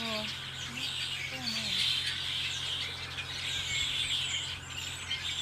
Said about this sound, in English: Red-winged blackbirds.